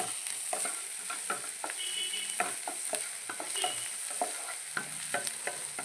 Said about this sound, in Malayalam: നമുക്ക് കുറച്ച് ഉള്ളി ഉപ്പിട്ട് കൊടുക്കാം പെട്ടെന്ന് വഴന്നു വരാൻ വേണ്ടിയിട്ട്